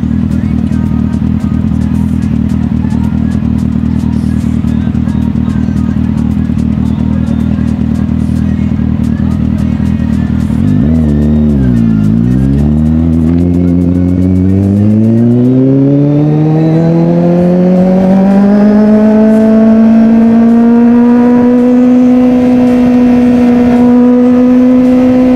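A 2014 Kawasaki Z800 motorcycle idles with a deep steady rumble, then is revved hard, the engine note dipping and climbing into a rising sustained howl held near and loud to the end.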